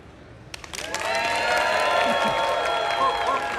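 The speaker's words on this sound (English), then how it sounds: "I want you to freak out and cheer and clap." An audience at a Nikon stage show at CES 2018 breaks into loud, sustained applause and cheering about half a second in, with whistles and excited voices rising over dense clapping that carries on to the end.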